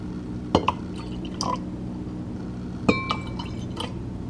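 Tart cherry juice pours into a glass with small trickling splashes and a couple of sharp clinks of glass, close up, against a quiet hum.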